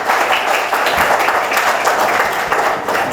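Loud, close audience applause fills a stage event marking a radio station's 21st anniversary, with many hands clapping in a dense, slightly fluctuating burst that carries on without letup.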